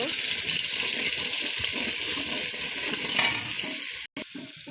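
A spice paste fries hard in a pan, a dense, continuous crackling sizzle up close that cuts out abruptly near the end, then resumes more quietly.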